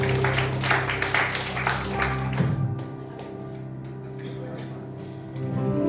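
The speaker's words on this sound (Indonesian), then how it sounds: "Tepuk tangan buat Tuhan." A church congregation claps together under lingering music and a voice, the clapping loud at first, then fading into scattered taps.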